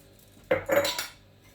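A knife cracks open cardamom pods with two quick, close metallic clicks and a light crunch, then quiet.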